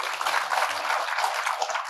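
A church congregation applauds on cue: dense, steady clapping from many hands lasts the whole short stretch at an even, moderate level.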